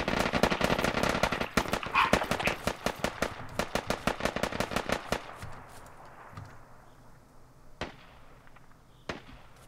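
Rapid automatic gunfire from the video game Squad rattles in a dense burst for about five seconds, then gives way to a quieter stretch broken by two isolated sharp shots, loud and close.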